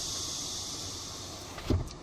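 The electric window of a Peugeot e-208 runs with a steady, quiet motor whir inside the cabin, then ends in a short thunk as the glass stops.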